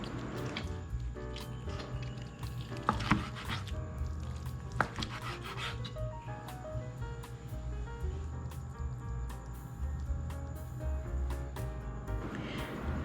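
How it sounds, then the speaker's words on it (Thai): A knife cuts cooked chicken thigh into thick pieces on a board, giving repeated soft rubbing and squishy slicing strokes with occasional sharp taps against the wood, close and without speech. "เวลาหั่นก็จัดไปชิ้นหนาๆเลยนะครับ ไม่ต้องทุบไม่ต้องตีนะครับ"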